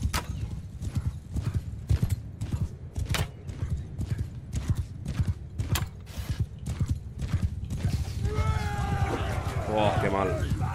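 Horse hooves clip-clop at a gallop in the medieval battle game Mount & Blade II Bannerlord, a steady close rhythm of beats with a brief whinny near the end, under someone talking excitedly over the game.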